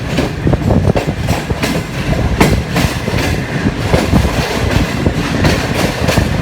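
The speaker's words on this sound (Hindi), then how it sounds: "ये वज़ीराबाद जंक्शन से पास हो रही है" The Green Line 5up passenger train rolls through Wazirabad Junction in Pakistan, a loud continuous rumble with rhythmic clickety-clack of wheels over rail joints, heard close from on board.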